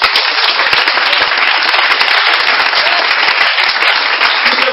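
A church congregation applauding and cheering, loud dense clapping with crackling hand claps filling the space continuously, close and sustained with no speech.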